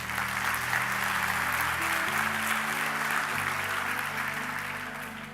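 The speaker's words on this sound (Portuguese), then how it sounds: "Aplauda ao Rei." Applause from a church congregation fills the space steadily over a sustained organ or keyboard chord, loud and continuous before tapering slightly at the end.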